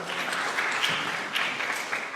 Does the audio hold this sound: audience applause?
yes